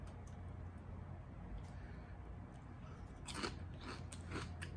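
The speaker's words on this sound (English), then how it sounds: "I presume you're supposed to just crunch them" Crisp fried smelt fish dressed with lemon juice being bitten and chewed up close, faint crunches rising over low room noise, with a louder burst of crunching toward the end.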